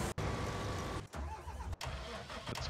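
Tractor engine from Farming Simulator 19 pulling an Amazone implement, a loud continuous mid-pitched drone with two brief sharp cut-outs, steady and close with no talking.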